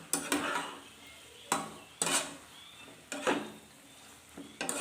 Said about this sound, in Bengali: এটা সমানে একটু নাড়াচাড়া করে নিয়ে খুব সুন্দরভাবে কষানো হয়ে গেছে, ভাজা ভাজা হয়ে গেছে